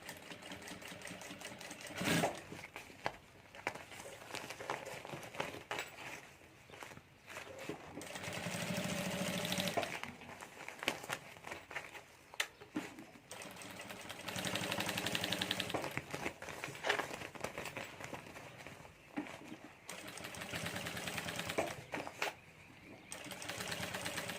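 A sewing machine stitches a handbag, sewing along a piped border in long runs of rapid, even clattering with brief pauses between, steady and close at moderate volume without talk.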